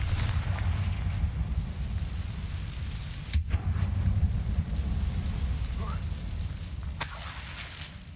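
Two sharp Confringo explosive spell blasts in Hogwarts Legacy, inside a closed mine resembling a tomb, burst out over a steady low rumble, a few seconds apart.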